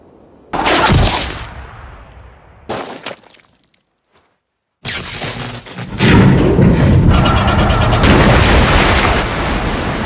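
A drilling machine explodes in a film: heavy booming blasts and a loud rushing roar, with abrupt bursts separated by near-silence, ending in sustained loud rumbling.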